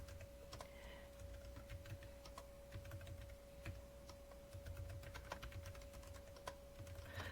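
Keystrokes clatter on a computer keyboard as a library book title is entered into an online search, irregular quick taps at close range over a faint steady electronic whine, no voices.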